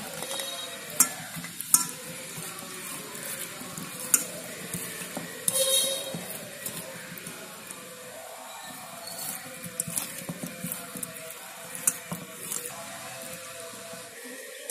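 Capsicum and onion being stir-fried in a pan for paneer tikka: a continuous sizzle with scraping stirs and occasional clinks, close and steady with no talking.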